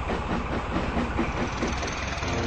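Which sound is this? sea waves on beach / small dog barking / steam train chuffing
steam train chuffing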